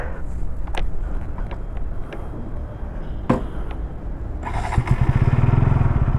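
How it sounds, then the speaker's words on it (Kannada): A 2025 KTM Duke 200 motorcycle starts up, with clicks and clatter giving way to a steady, loud, low engine idle with a rhythmic thrum close by. "Let's start the bike."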